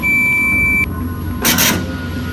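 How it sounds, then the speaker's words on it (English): Two electronic beeps from an old printing computer in an abandoned cathedral: a steady high tone that cuts off abruptly, then a short bright burst of beeping a moment later, over low background hum. "it makes an annoying beeping sound"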